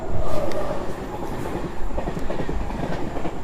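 An Indian Railways train runs through Punjab near Jalandhar, its wheels rumbling loudly with rhythmic clickety-clack over the rails and occasional metallic squeals, close and continuous throughout.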